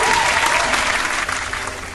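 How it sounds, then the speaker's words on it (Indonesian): Steady applause from a small group fills the whole stretch, even and continuous, with no voices over it. "Tepuk tangan untuk Backlin."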